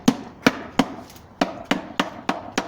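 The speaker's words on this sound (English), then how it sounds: "And a little hammer tappage." A small hammer taps on wooden beehive parts being assembled, with about nine sharp, evenly spaced knocks close by, each one a clear woody thwack.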